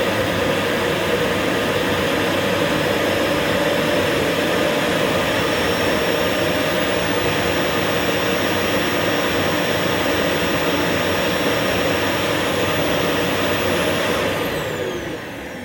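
A Fiable 3000-watt cyclonic vacuum cleaner runs steadily at full power, a loud, even whooshing roar that holds constant before easing slightly at the very end, with no voices.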